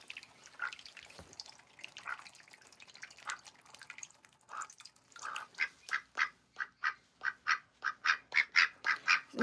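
Olivia Gray the duck makes soft wet dabbling and dripping sounds at first, then a regular run of about a dozen quacks that grow steadily louder and close by.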